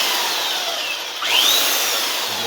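A belt sander fitted with a very coarse 40-grit belt grinds across a large wood cross section, a steady, loud abrasive roar that swells slightly partway through, heard alone without speech.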